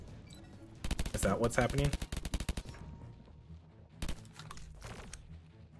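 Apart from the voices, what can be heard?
fire bullets shot in a video game (M.O.O.D.S)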